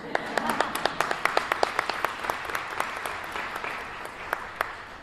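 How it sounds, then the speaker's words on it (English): A room of people gives a round of applause at a governor's press event on a state of emergency, sharp individual claps ringing out over a steady patter, with talk beneath. "David, now we can give you a round of applause."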